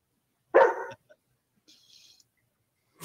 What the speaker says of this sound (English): That was the vicious dog. The chihuahua.